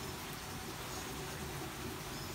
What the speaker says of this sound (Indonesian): Hujan nak.